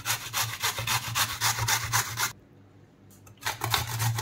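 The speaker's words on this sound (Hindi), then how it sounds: "गाजर और मूली को मैं कद्दूकस, ये मोटा वाला छेद वाला है," Carrot rasped against the coarse, large holes of a hand grater for kachumber salad, quick rhythmic scraping strokes up close, pausing for about a second before resuming.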